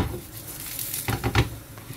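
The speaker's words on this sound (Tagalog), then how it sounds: "Fry lang natin hanggang sa lumambot siya." Potato and eggplant frying together in a cooking pan give a soft, steady sizzle with a few brief bursts of stirring and patter, heard alone and fairly quiet.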